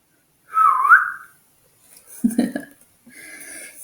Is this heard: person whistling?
yes